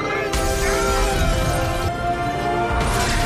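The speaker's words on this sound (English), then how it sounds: "the Ninja Turtle does a side flip to break through glass" Glass shattering during a stunt in which a performer side-flips through a pane, a loud crash of breaking glass with scattered debris ringing on for several seconds and no talk.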